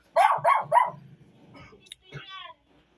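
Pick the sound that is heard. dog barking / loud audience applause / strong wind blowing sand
dog barking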